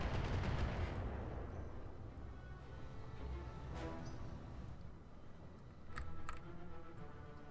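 Weapons fire in the mech combat game Roguetech, heard as muffled, distant booms and rumbling impacts with a few sharper cracks near the end, fairly faint overall and without speech.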